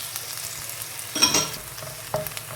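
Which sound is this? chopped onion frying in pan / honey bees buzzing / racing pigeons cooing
chopped onion frying in pan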